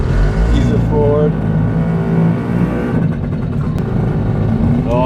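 A tiny Japanese micro car pulls away with its small engine revving and droning steadily throughout, while someone talks over it.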